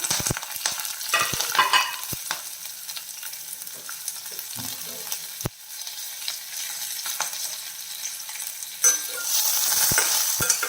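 Ginger and green chillies sizzle and fry in a pan while being stirred, with scraping utensil strokes and soft spattering over a low continuous sizzle, no talking.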